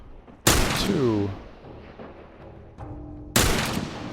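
El Diablo weapon firing in the game Grounded: two loud, sharp booming shots about three seconds apart, each with a ringing tail, while someone counts aloud between them.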